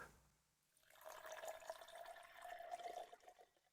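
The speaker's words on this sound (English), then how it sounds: "pour just a little bit" A drink is poured from a freshly opened bottle, a soft, steady stream of liquid that starts after a brief pause and runs on for a few seconds, close and fairly quiet.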